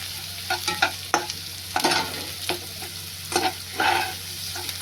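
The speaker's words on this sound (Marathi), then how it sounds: "मी व्यवस्थित ढवळून घेते ना, व्यवस्थित भाजू दे, त्याला कच्चा ठेवू नका" Wild village greens being stirred and roasted with browned onion in a hot pan. Loud, irregular scraping strokes of a spatula rise over a constant sizzle, close up and with no talking.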